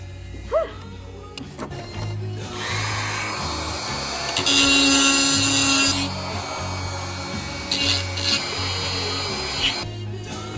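Rough wooden surface being polished by hand, giving a steady rasping rub in long strokes that rises and falls, close and moderately loud, with a low hum underneath.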